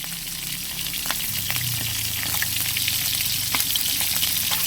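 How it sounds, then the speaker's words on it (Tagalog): Tulingan (bullet tuna) frying in a pan: a steady, close crackling sizzle with scattered pops, continuous throughout, no voices. "piprito na lang natin yung tulingan"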